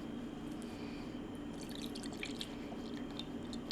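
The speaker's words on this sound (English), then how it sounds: "Into this, I'm going to add 1 can of evaporated milk." A can of evaporated milk poured into a bowl of cake batter for a chocolate tres leches cake, heard as a quiet, steady liquid trickle with small drips over a low background hum.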